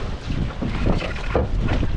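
Strong wind buffets a fishing boat at sea, a dense rushing roar with gusty microphone noise and no speech, steady throughout the short stretch.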